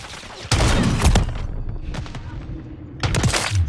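Bursts of gunfire in a first-person shooter game crack out in quick volleys, loud and close, with a short lull between clusters of shots.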